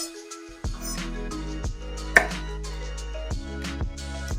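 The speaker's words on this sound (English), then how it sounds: "you're just going to chop the end off each side of the garlic" A knife chops the ends off garlic cloves on a board, a few soft taps and one sharper cut over a steady low hum from the kitchen.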